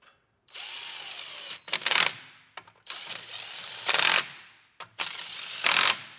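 A ratchet tool snugs lug nuts onto wheel spacers on a Highland Tesla Model 3 Performance. Three loud, close whirring bursts, each ending in a sharper surge, are separated by short pauses. No one speaks.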